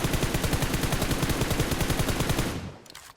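Rapid automatic gunfire from a firearm in the PUBG Mobile battle royale game, a dense steady burst of shots that runs loud for about two and a half seconds before cutting off and fading.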